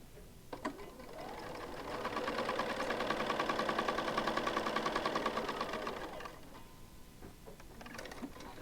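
A sewing machine stitches quilt pieces for a center star block in one steady, moderately loud run of rapid mechanical whirring lasting about four seconds, with soft handling noises before and after.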